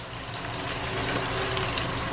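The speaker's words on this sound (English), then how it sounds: "We're going to add just a little bit of water." A little water poured into a hot frying pan of pork adobo makes a dense, loud, continuous hiss and bubbling sizzle close by, with no voices.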